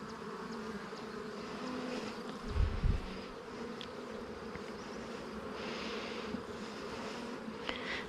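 Honeybees buzz steadily in a continuous drone throughout an open-hive inspection, with a soft low thump partway through and no talking.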